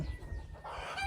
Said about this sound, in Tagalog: May chicken sila dito